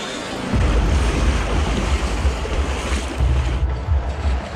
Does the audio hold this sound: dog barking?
no